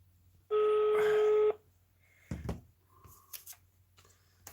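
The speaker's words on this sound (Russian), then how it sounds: "Звоним 2 раза." A telephone dials out for a call, a steady electronic dial tone lasting about a second, followed by a few faint clicks and soft handling noises in a quiet room.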